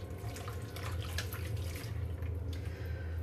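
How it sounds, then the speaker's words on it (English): Water from a kitchen tap runs steadily as doughy hands are rinsed beneath it, a continuous close splashing hiss with brief sloshing bursts and no talking. "Right, going to rinse those hands."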